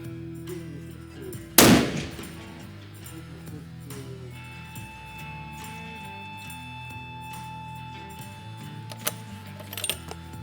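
A single sharp, loud gunshot from a Victrix Throne .375 CheyTac long-range rifle cracks out near the start, followed by a quiet stretch with a faint steady tone and a few small clicks near the end.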